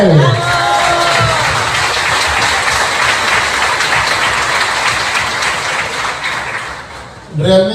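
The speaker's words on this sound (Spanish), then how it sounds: "un aplauso para él." An audience at a church-related gathering applauds a guest, with loud sustained clapping and crowd noise that tapers off near the end before a voice starts speaking.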